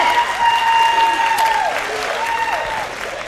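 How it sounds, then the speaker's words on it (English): A comedy club audience claps loudly and steadily for a few seconds, dense applause filling the room, with a few whoops and cheers threaded through. "Applaud the married girls, yes?"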